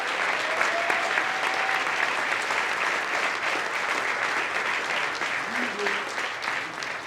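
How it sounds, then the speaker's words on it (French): A large audience claps continuously and loudly at a business promotion event, a full, even wash of applause throughout, with a brief whistle rising above it near the start. "Alors, une très bonne main d'applaudissements"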